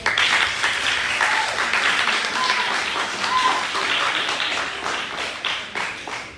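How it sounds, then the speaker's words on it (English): Steady, dense applause from a crowd at a debate competition final, many hands clapping continuously for several seconds at a fairly even loudness. "Give them a round of applause again."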